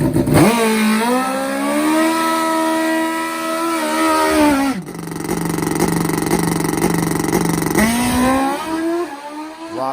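A nitrous-fed drag racing motorcycle of over 500 horsepower roars through a loud, close run, its engine pitch climbing steeply through each gear with sharp breaks at the shifts, then rising again; no voices over the racket.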